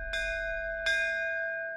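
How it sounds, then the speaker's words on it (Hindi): Two ringing strikes of a doorbell chime in a home, each a bright metallic ding with a sustained ringing tone that decays slowly, fairly close and clear with no talking. "घंटी,"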